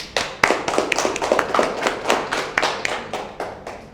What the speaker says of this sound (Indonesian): kita beri aplaus dulu buat si Rajib